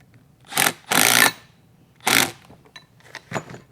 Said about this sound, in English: I'm going to use a 1/2 inch socket. Just going to go through and get them all at least in place here.